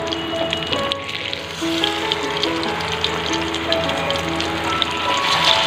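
Poppy seed fritters (posto bora) frying in a pan, giving a steady, close crackling sizzle that runs the whole time with no talk over it.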